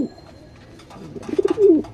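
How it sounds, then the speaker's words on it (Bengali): A pigeon recovering from molting gives a short, soft burst of throaty cooing near the end, close by and alone after a quiet stretch. "এখানে একটা কবুতর দেখতে পাচ্ছেন"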